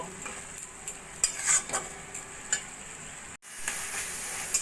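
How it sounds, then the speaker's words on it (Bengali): A spice paste with onions cooks down with a splash of water in a pan for a kundri dish, making a close, continuous sizzle broken by clicks and scrapes of a spoon stirring, with a brief cut partway through. "জল দিয়ে মশলাটা বেশ যতক্ষণ না পেঁয়াজগুলো গলা গলা হচ্ছে ততক্ষণ কষিয়ে নেব"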